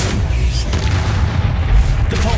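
A Confringo blasting spell in the Hogwarts Legacy video game sets off a loud, booming explosion with a rumbling low end that holds steady across the whole moment, and a voice is faintly present beneath it.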